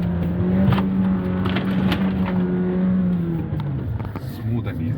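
A Jeep Wrangler Rubicon with manual gearbox climbs an off-road slope in second gear, its engine droning steadily up close before the pitch sags slightly toward the end.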